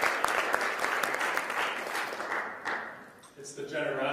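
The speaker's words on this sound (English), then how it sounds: "let's give her a round of applause" The audience at the Spring 2019 Marten Lecture in Preaching gives warm, full applause that swells and then gradually tapers off, ending with a voice speaking as the clapping dies away.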